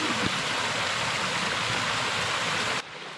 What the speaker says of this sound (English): Well, this is our first waterfall,